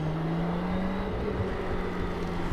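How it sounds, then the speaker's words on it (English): The engine of a BMW K1600GT touring motorcycle hums steadily while riding, a faint, smooth drone with a constant low tone under wind noise. "Just listen to that engine."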